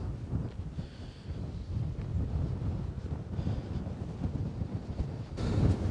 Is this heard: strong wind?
yes